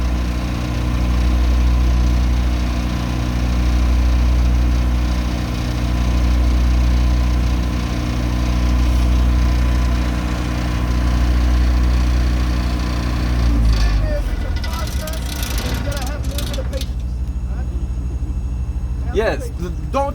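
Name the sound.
generator engine running while cooling down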